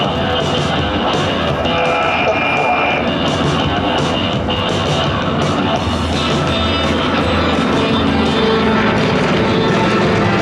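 Yak propeller planes of the Yako Team pass overhead in formation at the La Ferté-Alais air show, a loud continuous droning roar of radial engines that holds steady throughout.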